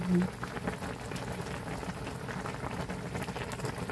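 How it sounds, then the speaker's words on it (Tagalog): Korean gamjatang pork bone stew boils in a pot, a steady bubbling simmer that runs without a break and sits close and fairly loud. "Pakuluin pa natin ng kaunti."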